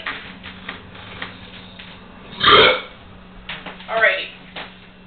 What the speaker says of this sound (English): So you go for the old school burp, eh?